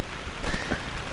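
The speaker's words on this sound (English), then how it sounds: "It rains for 3 days in a row out here." Steady rain falls outdoors in the gloomy Northeast at a paintball tournament, a broad, even wash of noise close by with no voices.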